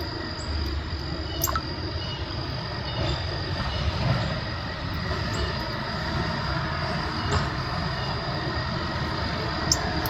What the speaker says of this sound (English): I think they're getting used to the construction work too,